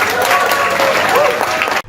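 Audience applause at a political gathering following a humorous pantun, a steady, loud burst of many hands clapping with some crowd voices mixed in, cutting off abruptly at the end.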